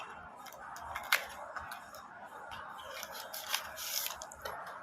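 A Lana vape pod package is unboxed by hand at close range: quiet crinkling, tearing and a few sharp clicks and snaps of packaging, with no talking.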